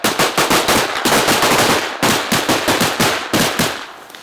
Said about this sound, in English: Shooting is really short period, like 10 or 15 rounds maximum